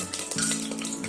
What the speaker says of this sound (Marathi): आपल्या इकडे घी गरम झालेला, गॅस स्लो केलेला आहे मी. आता याच्यात हे पूर्ण खडा मसाला आपल्याला टाकायचा आहे